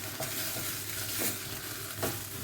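A salsa mixture seasoned with cumin is stirred in a cooking pan: a steady, loud sizzle with a few scraping spoon strokes sweeping through it.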